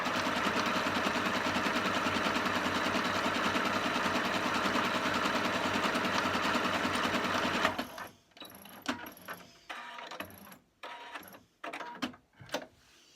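A Singer 8500Q sewing machine runs a steady, continuous stitching whir for about eight seconds, then stops and gives several short bursts of stitching with mechanical clicks between them.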